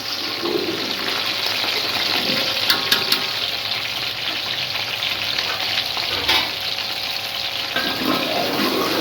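Lasoda (lasoora) fruit frying in a generous amount of oil for pickle, a loud, constant bubbling sizzle throughout with occasional sharper crackles and spoon stirring, no talking.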